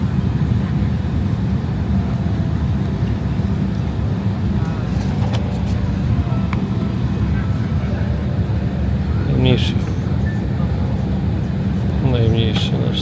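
A steady, loud engine drone and airflow roar from a LOT Polish Airlines Embraer 170 fills the scene, with faint voices and brief clicks over it.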